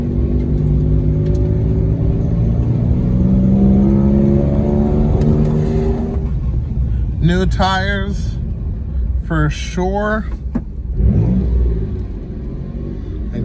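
A project car's engine and exhaust drone with a deep, steady rumble during a test drive, loud and close for several seconds before someone talks over the fading engine noise.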